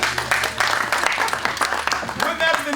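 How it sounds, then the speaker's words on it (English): A magic show audience breaks into applause after a trick, loud and dense clapping running throughout with a voice talking over it. "A big round of applause."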